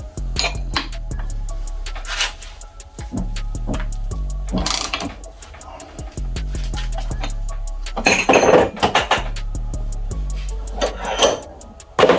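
A slipping steel water pump pulley on a Barra engine makes sharp cracking snaps that burst out irregularly over a steady mechanical hum, some isolated and some in quick clusters, loud and close with no talking.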